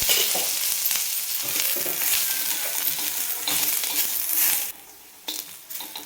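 Sliced onion roasts in oil in a pan for a Marathi-style fish curry, giving a steady bright crackling sizzle with scraping stirs, then the frying dips quieter near the end with brief bursts.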